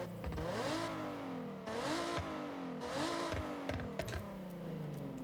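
Car engine with an aftermarket exhaust in the racing game Forza Horizon 6, revving up and down in three repeated rising pulls, loud and near, with clicks of keys or menu sounds near the end.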